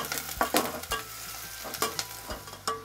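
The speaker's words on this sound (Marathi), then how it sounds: "आता हा कांदा आपल्याला चांगला लाल करायचा आहे" Finely chopped onion fries in hot oil as a quiet sizzle under repeated scraping stirs of a spoon in the pan, the strokes falling in an uneven rhythm, with no talk.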